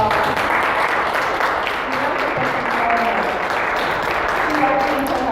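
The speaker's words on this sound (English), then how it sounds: "can we please give her a round of applause?" Audience applause rises in a dense, steady wash of clapping from a crowd at an event, continuous and loud throughout with a few voices mixed in.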